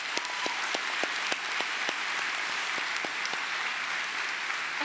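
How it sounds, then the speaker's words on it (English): A graduation audience at the 2018 Pine Lake Prep senior ceremony gives sustained, dense applause, many hands clapping steadily and evenly with no voices. "let's give a round of applause to our #1 supporters."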